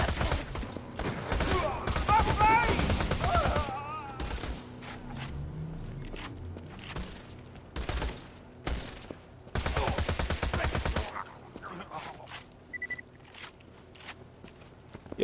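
Rapid bursts of SMG fire in Borderlands 2, loud and close, rattling in repeated clusters with short gaps between volleys and a few lighter mechanical clicks and steps in between.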